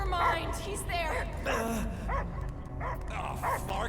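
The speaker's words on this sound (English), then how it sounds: "I hear only barking." Dogs bark and yip in a video game, several short bursts over the game's sound, with people speaking over them.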